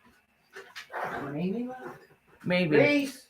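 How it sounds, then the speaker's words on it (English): A dog whines and yelps in short, high, strained bursts, mixed with people talking nearby. "What dog do I hear yelping outside?"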